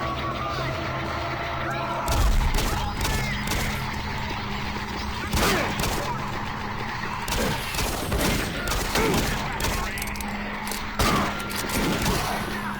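Pistol fire in the original DOOM 3 cracks out in sharp, loud shots spaced a second or two apart, each ringing briefly over a low, rumbling in-game ambience.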